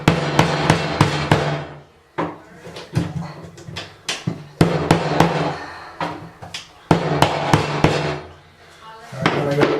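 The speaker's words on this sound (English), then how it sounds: "Use the saw to cut off the bulk, and the chisel to cut out the rest." Chiselling and hammering on an oak floorboard during a closet floor repair: clusters of sharp, close strikes with short pauses between bursts, loud and repeated, no talk over them.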